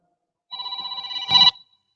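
A telephone rings once with a steady electronic trilling tone that lasts about a second. It ends in a brief louder burst as the call is picked up, and the room is otherwise silent.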